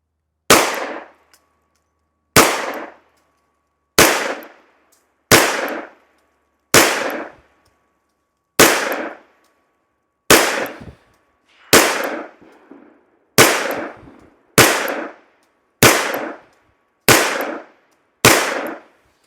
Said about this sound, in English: I'm not going to shoot the whole thing here.